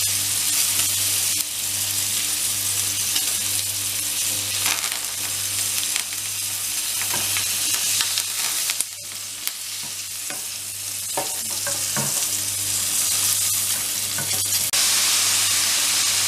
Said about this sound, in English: the thyme to the pan and let this cook through for 1 more minute